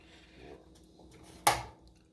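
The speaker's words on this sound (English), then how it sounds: "Now I'm going to put a lid on it." A lid is set onto a pan of stovetop pizza with a single sharp clank, close and brief, over a faint background hiss.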